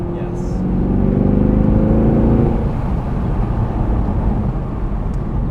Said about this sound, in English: It's such a sonorous V8.